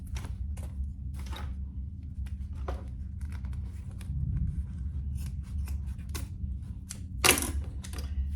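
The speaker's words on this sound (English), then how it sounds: "Let's cut off our excess zipper tape first." Scissors snip through excess zipper tape on a handbag being sewn, a series of sharp close cuts in an irregular rhythm over a low steady hum, with no voices.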